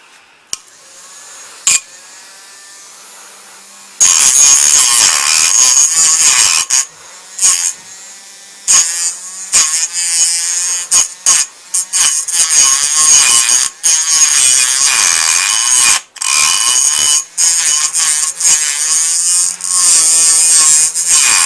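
Homemade electric mini saw switched on and cutting a paintbrush, a loud high-pitched whining buzz running in bursts with frequent abrupt stops and restarts.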